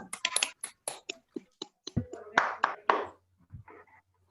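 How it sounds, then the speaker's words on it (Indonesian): A class claps for a student during a peer-teaching lesson, a sparse, uneven run of individual hand claps close by, with murmured talk and a few soft sounds toward the end. "Oke, tepuk tangan sama Sri Mulyati."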